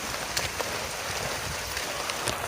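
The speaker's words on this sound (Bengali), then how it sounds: "আপনারা দেখতে পাচ্ছেন বৃষ্টি হচ্ছে" Steady rain falling in a village, a dense even hiss of drops striking surfaces with occasional louder individual splats, no voices.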